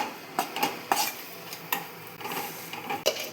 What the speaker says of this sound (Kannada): ಎಣ್ಣೆ ಬಿಸಿ ಆದಮೇಲೆ ಕಡಲೆ ಹಿಟ್ಟು ನಾನು ಹುರಿದ್ಕೊಳ್ತಾ ಇದ್ದೀನಿ